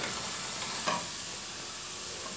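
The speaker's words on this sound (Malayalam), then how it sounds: "ഇതെല്ലാം വഴറ്റണ സമയത്ത് ഹൈ ഫ്ലെയിമിൽ കിടന്നോട്ടെ കേട്ടോ" Masala for a pressure-cooker vegetable biryani sautéing in a pan over high flame, a steady broadband sizzle with a brief stirring scrape partway through, close and continuous.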